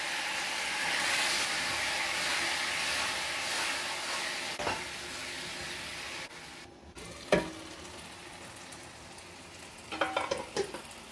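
Cauliflower masala gravy being stirred in a pan after a little water is added: a steady wet sizzle and hiss with occasional clinks and scrapes of the spoon, close by and without talk.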